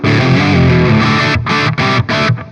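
An electric guitar plays through a Donner Pocket Go amp modeler with a heavily distorted tone. Sustained chords ring out, then give way to a few loud, choppy stabs with short gaps between them, and no one speaks.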